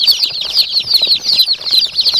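Gavran desi hens and chicks peep in a dense, continuous high chorus, close and loud, with quick bursts of wing flapping mixed in.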